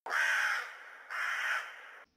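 Crows give two long, harsh caws one after another, loud and close, with no voices over them.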